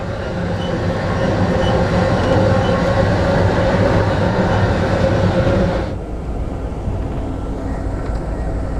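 Loud, steady rumble of an Amtrak Empire Builder passenger train rolling on rails, heard from inside, with the roar dropping abruptly to a quieter hum near the end.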